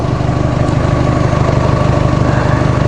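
The engine of a Toyota RAV4 with an overheating problem idles loud and close, a steady throbbing drone with no talk over it.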